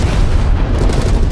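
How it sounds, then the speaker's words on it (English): Napalm strike in Call of Duty Black Ops Cold War, a loud, continuous roaring blast that fills the whole moment with dense, rumbling fire noise. "Napalm strike inbound."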